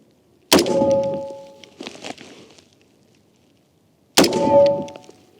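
Two sharp, loud rifle shots a few seconds apart, firing a standard machine-gun cartridge at a paving slab test target, each ringing out briefly, with a smaller thud in between.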